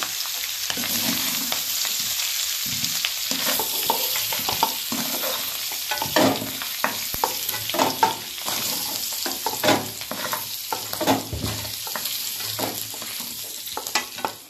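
Potatoes frying in hot oil give a loud, dense crackling sizzle, broken by repeated scrapes and knocks of a spatula against the pan through the whole stretch, with no voices.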